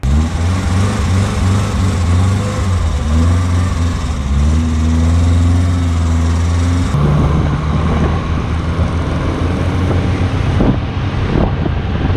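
An old vehicle engine is cranked and started for the first time in 15 years, running loud and close with a rough, steady low rumble that shifts and grows more ragged partway through, amid wind buffeting on the microphone.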